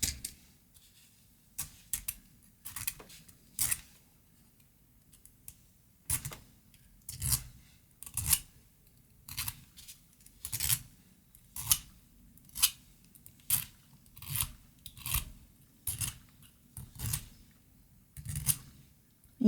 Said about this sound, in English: I'm just going to use a coarse needle file to get it started